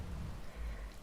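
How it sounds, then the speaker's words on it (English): Rain falls outside as a faint, steady wash of soft noise with low rumbling underneath, continuous and distant, with no voices. "It's been raining, which is never great."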